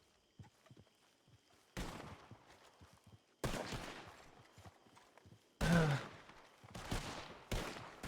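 Gunfire in a Wild West roleplay game shootout erupts in several loud bursts separated by quieter gaps, with scattered distant shots and faint hoof-like clatter in between.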